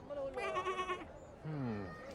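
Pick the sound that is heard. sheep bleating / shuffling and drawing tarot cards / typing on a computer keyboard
sheep bleating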